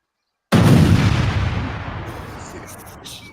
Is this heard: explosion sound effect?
yes